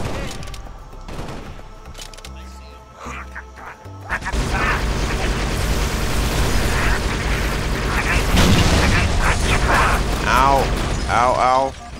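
Rapid gunfire bursts and explosions from a Tempered shield operator match on Xbox One roar loudly and continuously after a quieter start, with clustered pops and blasts building through the scene under faint voices.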